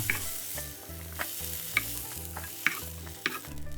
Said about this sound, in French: On fait revenir le tout à feu fort.